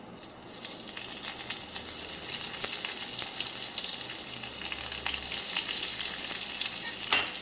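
Green peas with chopped garlic and ginger fry in sunflower oil for a porotta filling, giving a steady, close sizzle with a faint clink near the end.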